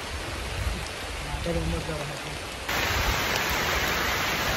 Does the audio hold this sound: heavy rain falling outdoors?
yes